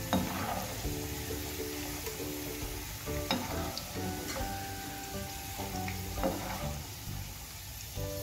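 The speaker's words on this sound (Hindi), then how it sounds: "इसी तरह आपने दूसरी भी फ्राई कर लेनी है।" Potato chips deep fry in hot oil with a steady, close sizzle and bubbling, joined now and then by faint clinks of a utensil stirring in the pan.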